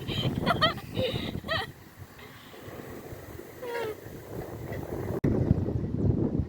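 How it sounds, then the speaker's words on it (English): Strong gusts buffet the microphone in heavy rumbling bursts while a person exclaims and talks over the wind. "Oh, no! It's too windy!"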